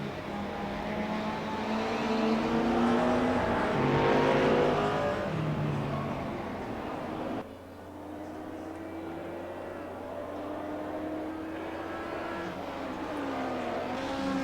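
Race cars, an Audi and a Mustang, roar past at the Hockenheim circuit, their engines loud and revving with rising pitch sweeps as they pass; the sound drops abruptly midway to a steadier engine drone.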